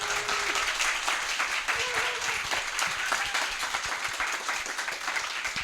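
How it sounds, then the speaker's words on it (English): Audience applause for the panelists at an open mic night at Kayd Creative Cafe, a dense, steady clapping from a crowd that holds at an even level throughout, with faint voices underneath. "Can we get them a round of applause?"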